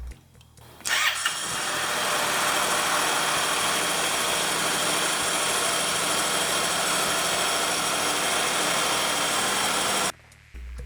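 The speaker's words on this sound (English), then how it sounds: "The bike ran beautifully." A repaired motorcycle engine starts after refilling oil and coolant, catching quickly and settling into a loud, steady idle close by that runs uninterrupted before cutting off.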